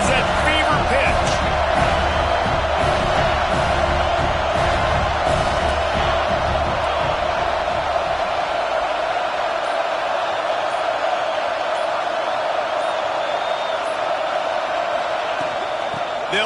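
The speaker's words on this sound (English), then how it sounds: "this crowd is at fever pitch" A dense stadium crowd roars loudly at a football game during a big third-down play in the red zone, a continuous wall of cheering and noise that stays sustained throughout.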